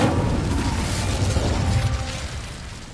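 An Incendio fire spell cast in a Hogwarts video game gives a deep whooshing burst of flame that rumbles and crackles for a few seconds before easing off.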